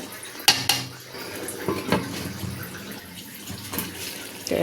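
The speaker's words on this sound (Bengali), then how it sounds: "একটু নেড়ে দিলাম" A utensil stirs pilaf in a cooking pot, with a few sharp metallic clinks and scraping, followed by a soft, steady background sizzle.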